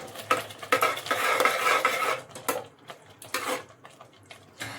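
Carrot halwa with fried cashews and almonds is stirred in a pot, making close, uneven scraping and clinking of a spoon against metal in short bursts, with a light sizzle underneath and no talk.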